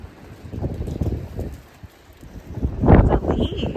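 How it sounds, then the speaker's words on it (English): Wind buffets the microphone outdoors in uneven gusts, rumbling low, with rustling and brief movement noises mixed in. "It's so windy."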